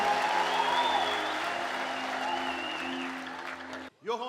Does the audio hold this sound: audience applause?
yes